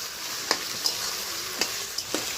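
Ground cumin, onion-garlic and green chili paste fry in a pan for a vegetarian curry, a steady hiss with a handful of light spoon taps and stirring scrapes.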